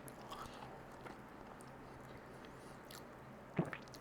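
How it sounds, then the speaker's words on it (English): A bite into a warm, crunchy Korean cream cheese garlic brioche bun with a sugar glaze, heard as one sharp close crunch after a stretch of quiet room noise. "the brioche bun's got a crunch on there"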